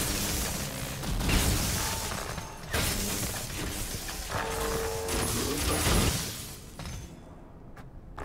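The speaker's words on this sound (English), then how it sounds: "You can shoot it to death with your crossbow by shooting the arms off." Clockwork soldier in Dishonored 2 being hit with crossbow bolts: mechanical clanks, metallic impacts and shattering crashes ring out in a busy stream, with creaking and whirring between hits, then trail off near the end.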